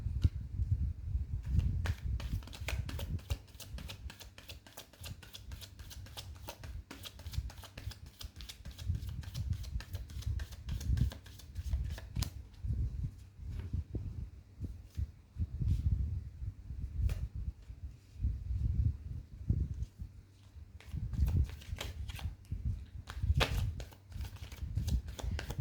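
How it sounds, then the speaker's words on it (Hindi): Tarot cards are shuffled quickly and continuously, producing soft rapid riffling and flicking bursts close to the mic with short pauses, quiet overall and without talk. "एक क्विक शफल।"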